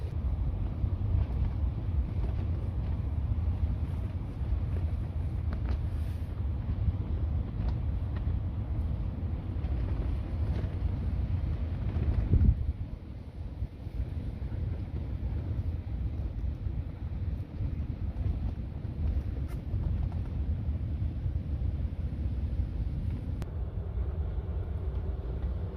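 Steady wind roars and buffets outside a car while camping on a coast in rain and wind, a constant low rumble with gusty swells and a brief louder surge midway, no talk.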